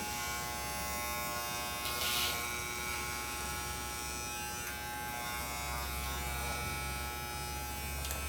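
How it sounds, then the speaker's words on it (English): An electric hair clipper with a guard runs continuously as it cuts a man's long hair, a close steady buzz that swells briefly as the blades pass through hair near the nape. "Inserting our clipper from the bottom of the nape, guard touching the scalp, up in a vertical section, up and off of the head."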